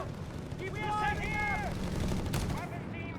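A .30 cal machine gun in Company of Heroes 3 rattles in a sustained burst beneath a commentator's voice, with other faint battle sounds around it.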